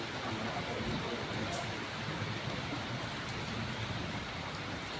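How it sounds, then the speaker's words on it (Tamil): Heavy rain pours down steadily during a thunderstorm, a dense continuous hiss of drops with water running off and dripping down steps, close and unbroken throughout. "இது பார்த்தீங்களா, உங்களுக்கு தெரியும் எவ்வளோ மழை பேஞ்சிக்கிட்டு இருக்குண்டு"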